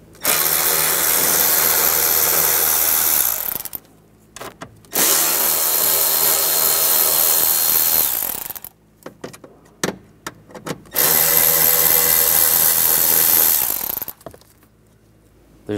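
A power driver with a 7mm socket backing screws out under the glove box of a 1999-2006 Chevrolet Silverado 1500, three loud whirring runs of several seconds separated by clicks and handling noises.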